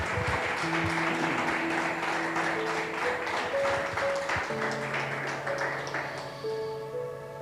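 A church congregation claps in a sustained, even wash of applause, with keyboard or organ notes sounding clearly over the clapping throughout.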